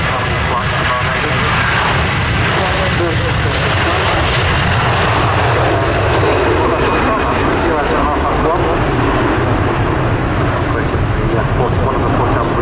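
A jet airliner on a Barbados flight roars at Manchester Airport, a loud continuous broadband engine rumble holding steady throughout, close and dominant with no other sounds standing out.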